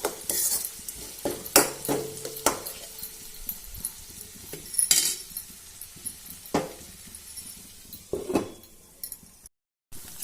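Chopped onions sizzle in a pan. A utensil stirs them with repeated metallic scrapes and clinks against the pan, over a quiet background of frying. No voices are heard.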